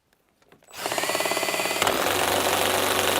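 A DeWalt cordless drill strains under heavy load, its motor whining loud and steady with a gritty, labouring tone that shifts partway through, running alone without talk.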